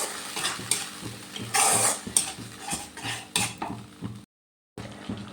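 Onion and spices are sautéed in a pan over a low gas flame, with repeated scraping and stirring strokes and a soft sizzle, closely heard, then a brief silent gap near the end.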